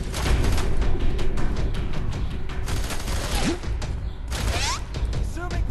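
A dense barrage of gunfire in the video game F.E.A.R. 3 rattles through a constant noisy background, with sharp impacts and a few whooshing streaks near the end.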